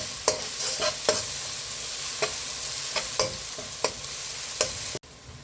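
Ginger and garlic frying with onions in a pan for a Kerala-style egg gravy, stirred with a utensil that scrapes and taps about eight times at uneven intervals over a steady sizzle.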